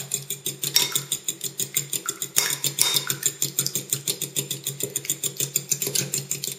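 A nail-soak mixture stirred briskly in a bowl, giving a steady rhythmic clinking and scraping of utensil against the bowl, repeating about four times a second, close and fairly clear.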